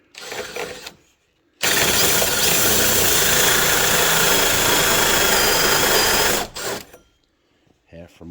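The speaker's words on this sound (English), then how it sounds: "I already have the 2 1/8 Diablo, so I'm just going to drill it with this." Cordless drill driving a 2 1/8 inch Diablo hole saw through a door, a loud steady grinding whir lasting about five seconds, up close, with brief bits of speech before and after.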